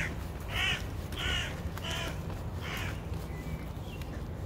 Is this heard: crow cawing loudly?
yes